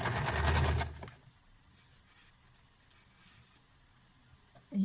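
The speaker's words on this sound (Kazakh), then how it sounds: "мен осы жаққа дейін тігіп шығамын" A sewing machine stitching a strip of fabric for Kazakh patchwork gives a loud, fast mechanical whirr for about a second, then stops. Quiet handling noises follow, and a short burst of stitching returns at the very end.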